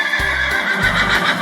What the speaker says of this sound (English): That's a horse. We have a horse here.